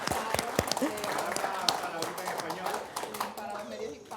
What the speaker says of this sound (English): we want to go ahead and applaud your family